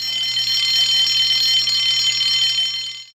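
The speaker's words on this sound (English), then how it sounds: "Soon came the alarm." A loud, continuous electric alarm rings steadily for about three seconds at close range, a shrill bright tone with a low hum beneath it, then it cuts off abruptly.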